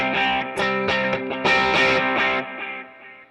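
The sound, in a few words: electric guitar with overdrive acting like a distortion pedal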